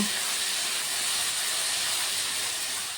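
Spice masala with sugar, vegetable masala and kasuri methi cooks in a pan for posto begun, giving off an unbroken, fairly loud, even hiss of sizzling, with no talking.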